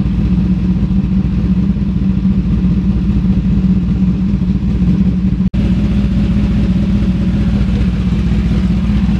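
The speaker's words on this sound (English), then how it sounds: "So just warming up the bike a little bit." A cold motorcycle engine idles loudly and steadily while warming up, a close, even rumbling throb that continues throughout, broken only by a brief click midway, with no one talking.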